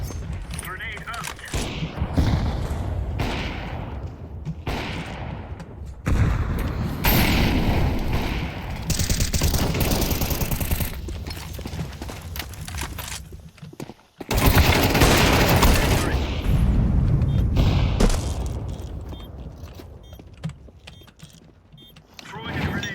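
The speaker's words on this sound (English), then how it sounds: "Grenade out." A grenade explosion and bursts of gunfire in a first-person shooter video game, dense roaring booms and rapid fire with loud swells and sudden cuts, with a player voice heard at times.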